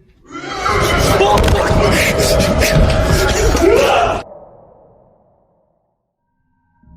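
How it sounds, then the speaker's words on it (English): A loud, chilling demon-like scream echoes inside a building, holding steady for several seconds before cutting off sharply and leaving a fading reverberant tail. "An extremely chilling, demon-like scream can be heard coming from somewhere within the building."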